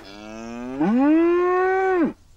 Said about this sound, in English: They were still mooing and chewing all over the tracks.